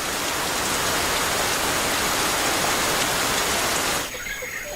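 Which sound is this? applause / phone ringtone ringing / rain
rain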